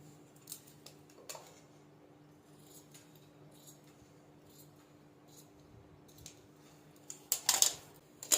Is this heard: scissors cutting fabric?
yes